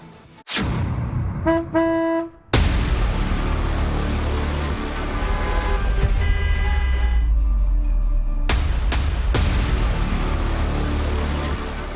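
Car horns honk repeatedly amid road traffic: a few short toots early, a long loud blast, then more quick honks later over a steady street rumble.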